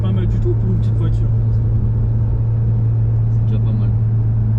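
An Alpine A110 sports car gives off a steady, loud, low engine drone that continues throughout, with voices talking over it.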